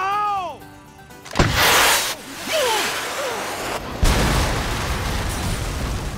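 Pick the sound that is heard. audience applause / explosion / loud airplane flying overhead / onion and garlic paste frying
explosion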